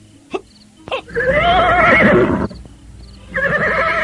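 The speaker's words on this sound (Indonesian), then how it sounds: "Suara kuda kita justru akan membahayakan." A horse lets out a loud, close whinny after a couple of short snorting bursts, then neighs again briefly at the end.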